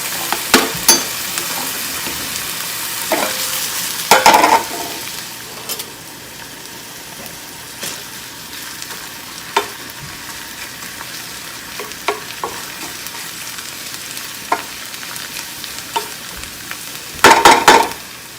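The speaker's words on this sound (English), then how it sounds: "I'll let that saute a little" Fried rice sautéing in a rice cooker gives a soft, steady background sizzle broken by sharp scraping and stirring clacks, with louder clusters of spoon-on-pot hits near the start and the end.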